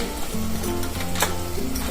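Turmeric, red chilli powder, garam masala and coriander-cumin powder hitting hot oil for vagharela bhaat, a short close sizzle with a brief sharp burst partway through.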